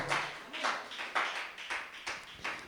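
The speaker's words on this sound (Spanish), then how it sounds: "Alguien dice amén y da un aplauso por ahí, por favor" A small church congregation claps along during a sermon: a slow, steady series of about six soft, distinct clap bursts at a moderate distance, with no voices over them.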